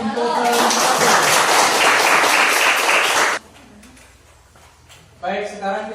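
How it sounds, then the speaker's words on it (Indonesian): Audience applause in a class presentation session, a loud burst of many hands that stops abruptly partway through, followed by quieter room sound and then a voice speaking. "Berikan tepuk tangan untuk"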